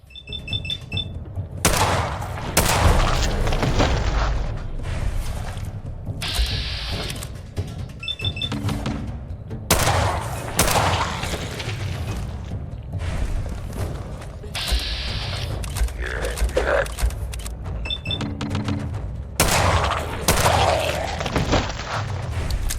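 Gunfire in the video game Fallout 4, several sharp shots spread across the passage amid mechanical clicks, ratcheting weapon sounds and short electronic beeps, with game ambience and occasional soft speech.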